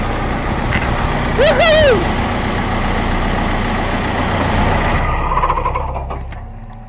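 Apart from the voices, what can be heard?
Jeep engine driving through water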